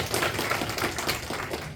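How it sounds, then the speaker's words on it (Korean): An audience applauds at an academic conference, a dense patter of many hands clapping steadily at moderate level with no talk over it. "박수 부탁드립니다"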